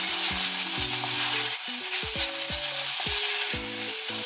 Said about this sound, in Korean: 돼지고기가 약간 익으면 고춧가루 2스푼을 넣고 달달 볶아줍니다.